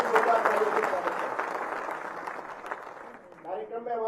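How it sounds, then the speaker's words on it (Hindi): Crowd applause at a public gathering in Durgapura welcoming an agriculture minister; broad, steady clapping fills most of the span, thinning toward the end as a voice begins speaking over it. "आदरणीय श्री किरोड़ी लाल जी मीणा साहब का भी जोरदार तालियों से स्वागत है"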